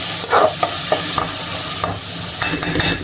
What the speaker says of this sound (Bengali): প্রথমে হচ্ছে শুটকিটা কষিয়ে নেব